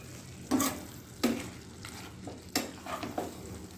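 Potol muri ghonto, a pointed gourd and puffed rice dish, is stirred in a pan as garam masala powder goes in, with several distinct scraping strokes over a soft, steady sizzle.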